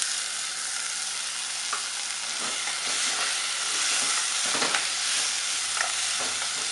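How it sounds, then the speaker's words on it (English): Jalapeno, pimento and sweet peppers stir-fry in a hot pan, giving a steady loud sizzle and hiss throughout, with intermittent scraping clatters from a stirring utensil. "jalapeno peppers. Keep stirring. It's like stir fry."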